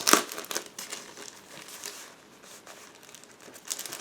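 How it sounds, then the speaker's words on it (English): Crinkly plastic rustling and crumpling as a bag of decal sheets from a 1/72 Spitfire model kit is opened, with sharp bursts at the start and end and softer handling between, close up with no talk. "the plastic bag with decal sheets. Just give me a second to open it."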